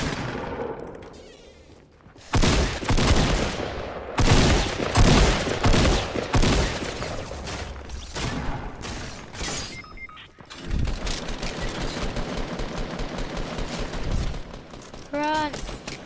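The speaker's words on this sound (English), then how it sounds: "Who the hell's shooting me?" Gunfire from the video game Fortnite, bursts of shots spread through the clip with dense broadband crackle, mixed with game sounds and a voice talking over it.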